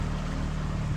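Canal boat engine idles with a low, steady throb, while cooling water squirts out the back in a constant watery hiss, heard close and alone.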